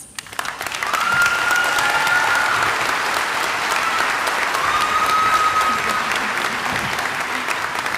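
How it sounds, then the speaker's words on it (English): Sustained applause fills a college commencement ceremony at Lane Community College, a steady wash of clapping from a large audience that swells after a second and holds loud and even to the end, with a few faint voices mixed in. "Give her another round of applause."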